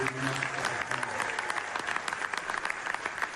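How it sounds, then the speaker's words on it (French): An audience claps in a steady, fairly faint stream of applause, with a brief voice near the start. "Et tout le monde applaudit."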